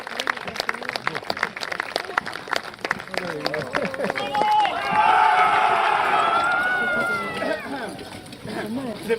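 Crowd of spectators at a Roman legion and auxiliary troops reenactment breaks into sustained applause and cheering, swelling loudly midway and easing off toward the end, with someone talking over the start and end.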